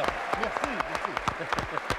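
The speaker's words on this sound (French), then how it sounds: "Quelques applaudissements." A few scattered hand claps from a studio audience on a French television show, sparse and fairly soft, sounding beneath a voice that keeps talking throughout.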